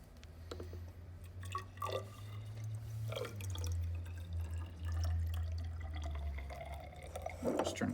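Water poured from a measuring vessel into a plastic water bottle, a close, steady trickle with faint drips and small clinks, over a low background hum.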